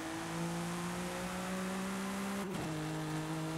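BMW M4 GTS engine in a racing game holding a steady high drone, briefly broken by a quick shift or blip of throttle, then settling again, loud and with no voices.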